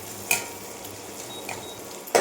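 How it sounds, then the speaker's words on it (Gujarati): Garlic masala being stirred into boiled rice pulao with cashews and peanuts in a pan, giving a few soft scraping strokes over a faint, steady sizzle, with a sharper clink near the start and another at the end. "તેને મિક્સ કરીને આપણે થોડી વાર કૂક થવા દઈશું"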